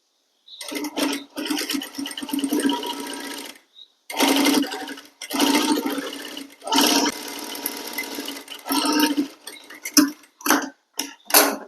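Sewing machine stitching a kurti in bursts of rapid, steady mechanical chatter with short pauses between runs, close and loud, ending in several quick short spurts.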